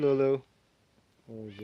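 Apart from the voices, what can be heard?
pet cat meowing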